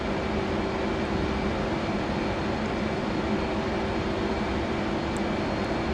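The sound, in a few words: F/A-18C jet engine on afterburner in DCS World video game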